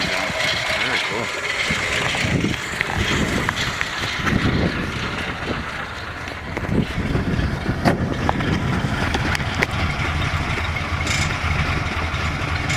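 Restored 1937 Ford Model 78 sedan with a flathead engine, recently rebuilt with dual new pumps, idling quietly and steadily nearby, its low even rumble running under intermittent conversation.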